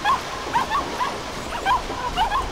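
A dog in The Cave gives repeated short yips and whimpering barks in a rising, tonal pattern, a few soft bursts spread evenly across the moment, moderately close over a faint ambient wash.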